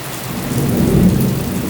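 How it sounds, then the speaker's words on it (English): Heavy rain pours down steadily in a city during a thunderstorm, a dense hiss with a low thunder rumble swelling in the middle and no voices. "and the lightning and the thunder"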